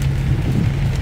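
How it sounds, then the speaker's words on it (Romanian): Torrential rain drumming steadily on a moving car near Sebeș, a dense, loud, continuous wash with a low road rumble underneath. "Chiar acum trec pe lângă Sebeș, plouă torențial"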